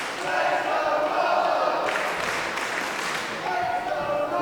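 A crowd at a Future Pro Wrestling school show makes a dense, continuous roar of cheering and shouting that swells and eases, with a commentator talking over it.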